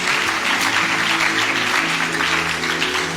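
A church congregation claps in steady, dense applause that fills the room loudly and continuously, with no one speaking over it.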